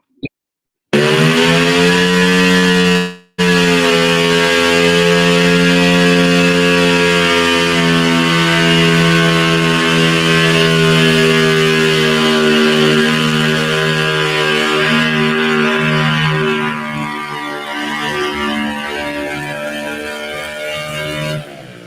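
A garden tractor pulling engine roaring at a pull event, a loud, continuous high-revving buzz with a strong droning pitch, briefly cutting out near the start, then holding steady before slowly fading and roughening toward the end.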